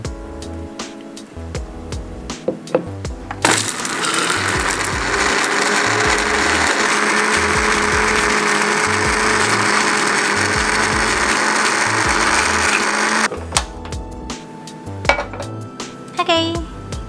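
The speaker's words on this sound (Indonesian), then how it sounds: "Kasih air secukupnya aja, cuman biar buat ngeblender aja biar halus." An electric kitchen blender runs continuously for about ten seconds, grinding a spice paste with a little water. Clattering of pots and utensils comes before and after it, all close and fairly loud.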